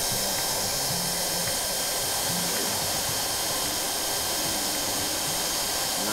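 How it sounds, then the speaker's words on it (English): A heat gun welds the edges of a plastic biogas bag, producing a steady, close airy blowing roar with a high hiss, continuous and alone throughout. "So the next step is fire up the heat gun again and weld the edges."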